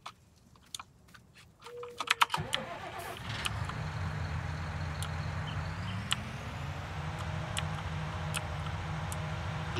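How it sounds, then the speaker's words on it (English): A tractor engine cranks after some clicks and rattles, then catches and settles into a steady low idle that continues to the end. "Here, let me do it with my tractor."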